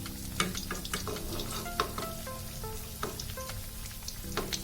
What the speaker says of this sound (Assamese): ল' ফ্লেমত ফ্ৰাই কৰি ল'ব লাগিব আৰু লাহে লাহে লৰাই দিব লাগিব।